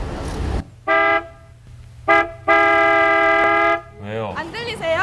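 A car horn honks three times, two short toots and then one long sustained blast, with a voice starting up right after.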